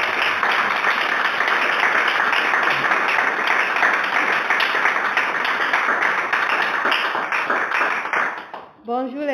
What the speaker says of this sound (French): Ils disent qu'ils ont applaudi pour toi